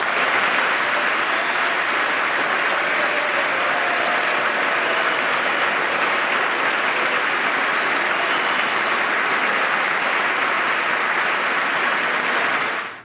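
Sustained applause fills a congressional chamber during a presidential address about job creation, a dense, steady wash of clapping from a large audience that holds evenly for over twelve seconds before cutting off.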